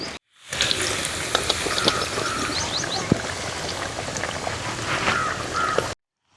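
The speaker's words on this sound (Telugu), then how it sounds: "నూనె కాగింది. కాకరకాయ ముక్కలు వేపుతున్నాను చూడండి." Bitter gourd pieces frying in hot oil make a steady close crackle and hiss with small pops, running continuously for several seconds with no talking.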